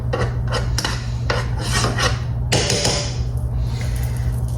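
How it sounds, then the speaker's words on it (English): A spoon spreads butter across a slice of bread in a series of close, rough scraping strokes with a rhythmic rasping texture and a low hum underneath. "you're gonna put some butter and spread that boy around"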